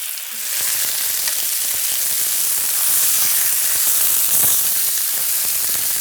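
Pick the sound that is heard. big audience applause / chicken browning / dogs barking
chicken browning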